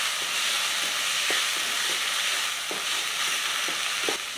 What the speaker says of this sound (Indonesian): terus ini tinggal kita tambahkan minyak, terus kita tumis sampai harum dan matang bumbunya